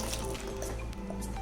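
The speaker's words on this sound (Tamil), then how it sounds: "இப்போ அந்த மிக்சிலே கொஞ்சமாக தண்ணி ஊற்றி நல்லா கலக்கி ஊற்றிடுறேன்." Water is swirled in a mixer jar and poured into a curd and coconut mixture for vendakkai mor kuzhambu: soft liquid squishing, splashing and light clinks, faint and continuous under low background noise.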